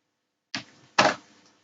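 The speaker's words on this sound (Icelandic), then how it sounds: "þarf ég að halda niðri samtímis, Ctrl Shift og ýta á Enter" Ctrl Shift Enter pressed on a computer keyboard, two sharp close clacks about half a second apart, the second louder, in otherwise silent surroundings.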